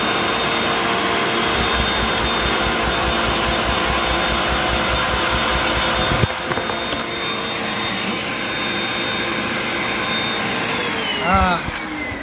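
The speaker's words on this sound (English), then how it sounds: "I'm just gonna turn on the vacuum, and then you guys won't be able to hear anything I say." A vacuum cleaner roars loud and steady, driving a single-stroke, single-cylinder Lego vacuum engine, its pitch shifting about halfway through with a brief rattle near the end.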